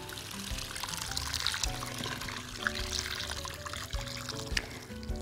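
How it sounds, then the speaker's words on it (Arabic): Hot water pours steadily into a pot for a cream seafood soup, a continuous close splashing stream with a few louder gurgles, and soft music underneath. "ميه سخنه"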